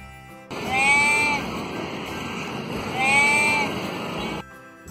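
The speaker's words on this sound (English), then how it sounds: "Sheep." Two drawn-out sheep bleats, loud and close, each a wavering call separated by a short pause, over a steady hiss of background noise.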